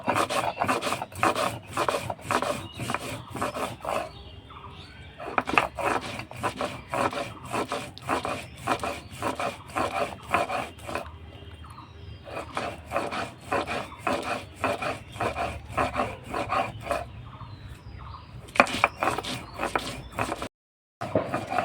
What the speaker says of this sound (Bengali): তো মশলাটা বেটে নেওয়া হয়ে গেছে